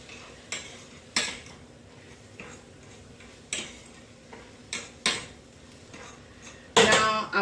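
A utensil mixes food together in a pan, sending out intermittent clicks and scrapes against the metal, spaced irregularly over a quiet background with a louder clatter near the end.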